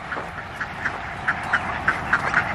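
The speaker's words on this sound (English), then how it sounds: "I have ducks right here." Backyard ducks quack in a quick series of about ten short nasal calls, moderately close and fairly even in rhythm over a low steady background hum.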